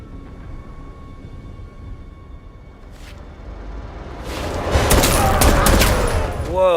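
A rapid burst of gunfire from an action scene in the 2021 film No Time to Die, erupting after a quiet stretch of low rumble and faint voices, with several sharp shots close together.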